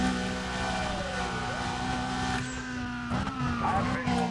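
A car in Need for Speed: Undercover running flat out at top speed, its steady engine drone holding a sustained high pitch throughout, with faint tire noise and shifting tones near the end.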